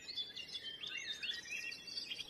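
A tiny, brightly colored songbird sings alone in a continuous run of high, thin chirps and warbling notes, fairly faint and close without any talk.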